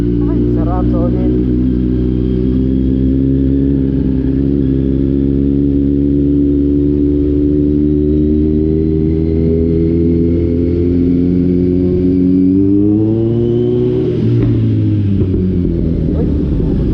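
A Kawasaki Z900 motorcycle with a slip-on exhaust and deleted catalytic converter idles loud and close, a deep steady rumble that climbs in a quick rev near the end.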